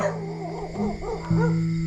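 A dog barks repeatedly at a house as a motorcycle day trip begins in Saraburi, Thailand, several sharp close barks in a quick irregular run, the last one longer and louder, with no talk over it.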